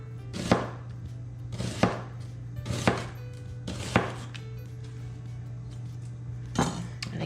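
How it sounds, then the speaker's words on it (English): A knife cuts a halved small red onion into thin slices on a board, about six crisp evenly spaced chops over a low steady hum. "Go ahead and cut that in half. And just making some thin slices with it."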